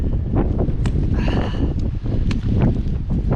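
Strong wind buffeting a hiker on a coastal walk from Cape Wrath to Land's End, roaring gusts and rustling against the microphone, loud and close, with no talk.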